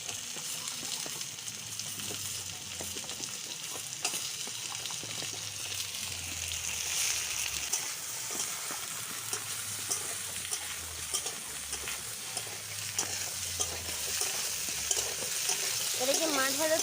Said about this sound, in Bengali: এটা কি মাছ ভাজার তেলে করছো?